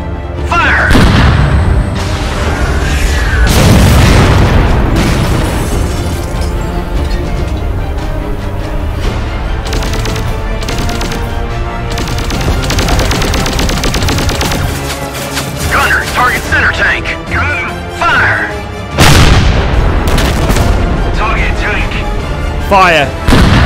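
Tank cannons in an Army Men backyard war video game fire heavy booms and explosions in repeated bursts among dense battle noise, with shouted commands and voices mixed in.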